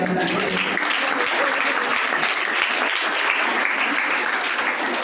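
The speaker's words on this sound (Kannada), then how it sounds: "ನಿಮ್ಮೆಲ್ಲರೂ ಜೋರಾದ ಚಪ್ಪಾಳೆ" Loud, dense applause from an audience at a Children's Day school event fills the whole stretch, a steady wash of many hands clapping up close with a faint voice or two mixed in.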